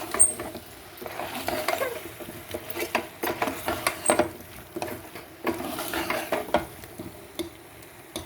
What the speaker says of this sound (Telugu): ఇప్పుడు అదంతా మనం బాగా మిక్స్ చేసుకుందామండి.